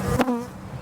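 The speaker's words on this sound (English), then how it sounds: "So there's more bees in here than what I thought there would be." A brief burst of honey bees buzzing in an opened hive, a close, dense hum lasting under a second with no voices.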